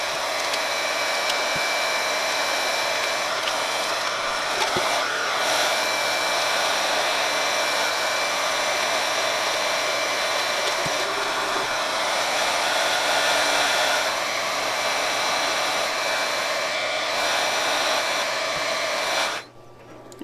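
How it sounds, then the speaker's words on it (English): A heat gun blows steadily with a loud, even whoosh while wrapping a sublimation tumbler, running for about twenty seconds before cutting off abruptly, with no talking. "And then I'm going to get the heat gun."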